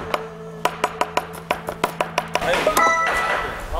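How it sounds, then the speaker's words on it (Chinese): Back of a knife chops shrimp paste on a board in a rhythmic run of about a dozen sharp, close knocks, then blurs into busier clatter and kitchen noise. "他，你看，他按我是用刀背的切。"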